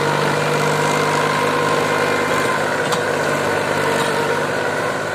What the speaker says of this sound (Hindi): भाइयों यू ट्रैक्टर है देखो कितनी मिट्टी खींच रहा